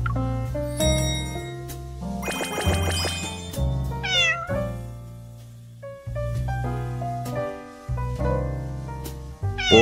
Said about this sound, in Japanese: お前がよく餌をやる子猫の鳴き声に似ているな。